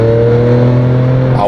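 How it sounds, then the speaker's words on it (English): Manual-transmission car dropping from fifth to third gear, a loud steady engine drone that holds its pitch and then climbs sharply as the downshift raises the revs at the end. "I want to go 3rd gear right now from 5th"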